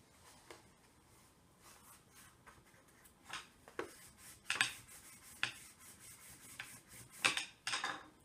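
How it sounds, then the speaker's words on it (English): Wooden spoon pressed and rubbed along a paper fold during bookbinding, giving soft scraping and crinkling strokes, quiet and close, with a few sharper rubs later on. "press down on the fold with my wooden spoon"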